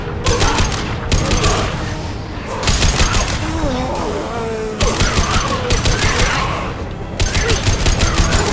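Rapid gunfire bursts in the video game Mass Effect 2 on Hardcore difficulty, loud sustained fusillades repeating in waves with brief pauses and mechanical clanks between them.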